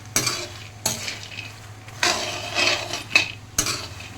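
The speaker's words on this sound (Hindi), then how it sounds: "दोस्तों ये हमारे खाने फ्राई हो रहे हैं" Food fries in a pan at home, a low sizzle broken by half a dozen scraping stirs of a spoon or spatula against the metal, with no talking.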